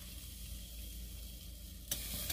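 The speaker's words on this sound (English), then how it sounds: "It's sizzling." Chicken pieces sizzle in an air fryer with a steady, close crackling hiss that holds throughout, then a brief sharper clatter near the end, with no talking.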